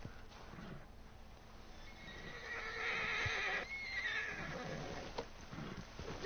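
A horse neighs in the Western video game Red Dead Online, a drawn-out whinny of a couple of seconds rising over faint hoof clip-clop and ambient game sound.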